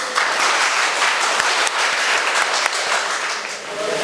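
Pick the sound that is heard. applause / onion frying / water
applause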